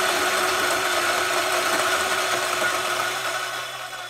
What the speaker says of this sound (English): Let's see what will happen if you grind the same coffee on the same settings, but at 300 RPM.